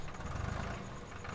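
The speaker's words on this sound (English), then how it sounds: "that tractor's in place." A tractor engine idles in Farming Simulator 2013, a steady low rumbling drone with no talking over it.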